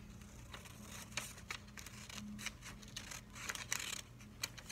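Scissors snip through folded paper in a quiet classroom, several short crisp cuts and crinkles spaced irregularly, close and fairly soft.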